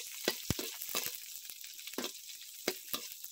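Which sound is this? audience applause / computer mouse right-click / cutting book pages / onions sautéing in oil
onions sautéing in oil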